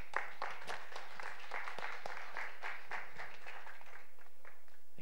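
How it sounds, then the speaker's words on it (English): Applause from an audience at a tech industry event honoring an artist, light and fairly faint scattered clapping that holds steady for several seconds. "Help me give a huge round of applause for Mia"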